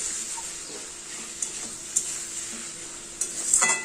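Ash gourd with mung dal frying in a pan gives a faint, continuous hiss, broken by a few light clinks and scrapes of a spatula against the pan.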